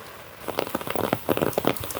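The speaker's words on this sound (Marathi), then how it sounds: "बघ ते मस्त पाऊस पडता" Rain pours steadily onto surfaces at a harbour in Devgad during the monsoon, a dense patter of close drops heard on its own.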